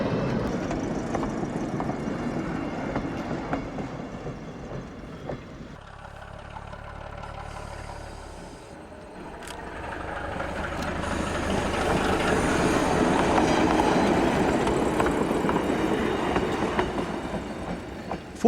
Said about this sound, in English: here, in June 2003, RM50 is making a photo run on the Plains Railway at Tynwald